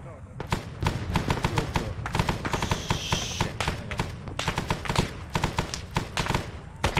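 Repeated gunshots in the military video game Arma 3, a steady run of sharp, loud cracks spread across the whole stretch, with no talk.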